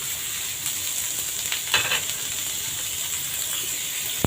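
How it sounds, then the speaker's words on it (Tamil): Onion, tomato, garlic and ginger sauté together in hot oil for an egg gravy. They give an even, constant sizzle and hiss at close range, with a couple of faint utensil clicks and a sharp tap at the end. "வெங்காயம் தக்காளி எல்லாமே ஒண்ணா போட்டு வதக்கிக்கலாம்"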